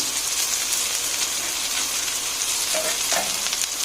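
Ingredients sautéing in a pan for sinigang sa miso with talakitok fish, a steady bright sizzle and frying hiss close by, with faint stirring clinks near the end and no voices.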